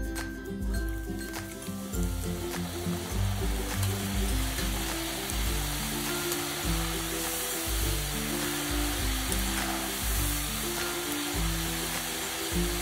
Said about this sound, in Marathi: आता हा सुद्धा फ्राय करून घेऊयात।